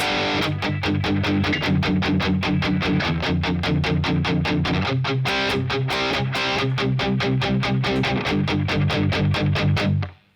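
Heavily distorted electric guitar chugs steadily through the verse of a song, a dense run of evenly repeated picked chords played alone for about ten seconds before cutting off abruptly.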